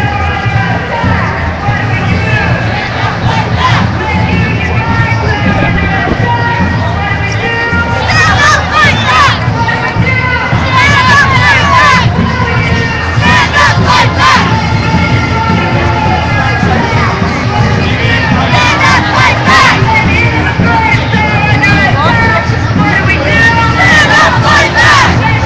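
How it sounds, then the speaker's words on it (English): A protest crowd of a few hundred people gathered on Market Street before a May Day march cheers and shouts, with loud, continuous crowd noise and repeated bursts of yelling rising and falling throughout. "It looks to be like a crowd of about 200, maybe 300 people here."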